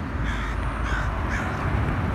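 A crow caws repeatedly in harsh, rhythmic calls, loud and close, with steady background noise.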